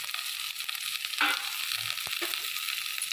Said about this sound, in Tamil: வெண்டைக்காயை போட்டுட்டு நல்லா வதக்கிடுவோம்